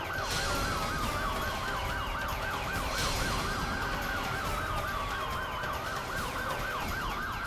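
A police car siren wails in a fast, repeating yelp, loud and close, running without pause over a low traffic rumble.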